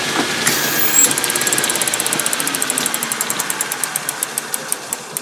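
A brief squeal, then a rapid clicking that steadily slows, ticking evenly over the steady hum of a lathe tapping a thread in a metal part.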